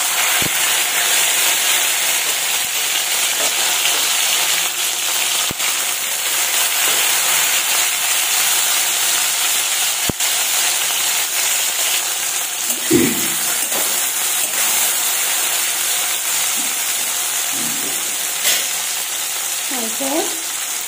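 Chopped tomatoes hit hot oil already holding whole cumin, a dried chilli and bay leaf for a matar paneer, giving a loud, continuous sizzle and hiss with a few scraping stirs and soft knocks near the end.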